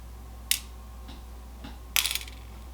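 Wire cutters snip the last jump ring from a coiled wire, giving two sharp metallic clicks, the second followed by small tinkling rattles, with faint handling taps between, close and otherwise quiet.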